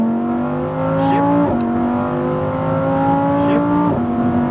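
A Lamborghini Huracan STO accelerating hard around the Las Vegas speedway, its engine note climbing steadily through the gears with a sharp drop at each upshift, loud and close throughout.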